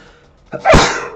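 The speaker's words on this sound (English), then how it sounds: "Oh, sneeze." A single sharp sneeze bursts out loud and close after a brief intake of breath.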